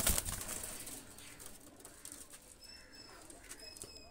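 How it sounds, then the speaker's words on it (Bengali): Two Omani pigeons set loose, a sharp burst of wing flapping at the start followed by soft, close cooing and light bird sounds over a quiet background. "দুটা কবুতর ছেড়ে দেখাচ্ছি, দেখেন।"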